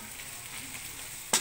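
Carrots frying in a pan being stirred, a steady soft sizzle with a sharp scrape of the utensil near the end, close and without talk.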